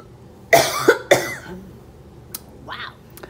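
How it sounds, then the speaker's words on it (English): A woman coughs after a pineapple-flavoured drink goes down the wrong pipe: two or three sharp, close coughs in quick succession, followed by a quieter throat-clearing sound. "I just had a little cough attack."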